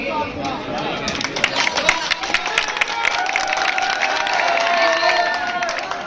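Large crowd at a political rally cheering and clapping continuously, dense roaring noise with scattered whistles and shouts, loud and close, no clear speech.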